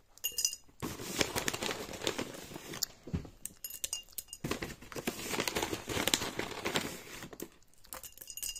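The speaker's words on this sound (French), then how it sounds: "je vais mettre quelques sucres en morceaux." Sugar cubes drop and clink into a glass jar packed with carrots for a homemade sore-throat syrup, a close run of crinkly rattles and small knocks in two bursts with a brief pause between, no talk.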